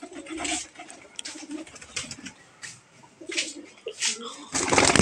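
Pigeons on a netted rooftop during feeding, a run of soft cooing calls with bursts of wing flapping and scuffling nearby, rising to a louder flurry near the end.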